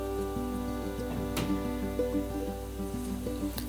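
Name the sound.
potato donuts frying in hot oil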